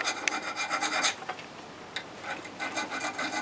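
A small file rasps against a wood turning to raise a burr, making close, rhythmic scraping strokes with a short lull in the middle before the filing resumes.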